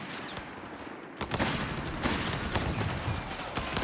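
Gunfire rattles through a Company of Heroes 3 battle, with bursts of rifle and machine-gun fire that start after a short quieter stretch and keep going as dense, repeated shots at moderate loudness without speech.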